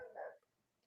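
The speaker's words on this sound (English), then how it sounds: "Oh yeah, I hear your puppy." Small dog giving a single short bark, faint and distant, followed by quiet room noise.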